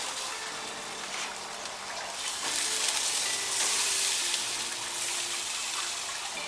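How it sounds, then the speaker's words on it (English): A stuffed smash burger sizzles loudly on a hot cooking surface after the flip, a steady bright crackling hiss that keeps going without a break and swells slightly midway. "we're going to go ahead and flip this"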